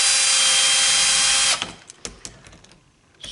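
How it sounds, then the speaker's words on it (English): A power screwdriver drives screws into a Baldwin door lock, giving a loud, steady whirring whine for about a second and a half before it stops, followed by a few small clicks and taps of the hardware. "Screwdriver going in the right direction."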